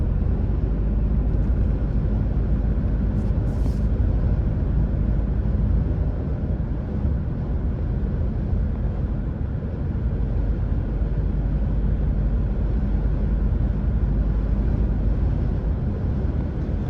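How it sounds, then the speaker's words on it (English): Steady, heavy wind roar buffets the cabin of a moving new Toyota Tacoma pickup truck, a dense continuous rumble with no pauses and no talking. "you'll be able to see or hear what the wind is like"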